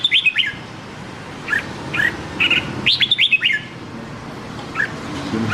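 A Vietnamese red-whiskered bulbul sings nearby in bright, quick chirping phrases, several short bursts of warbled notes separated by pauses, loud and clear over a faint background hum.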